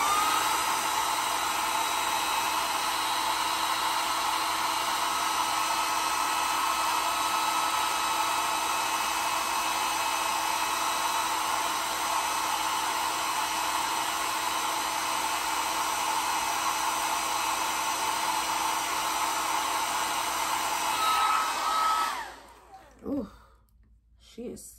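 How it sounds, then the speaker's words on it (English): A hair dryer blows steadily and loudly at close range while a frontal wig is styled, a constant whirring hiss that cuts off near the end, leaving brief quieter rustling. "Go back in with the dryer again."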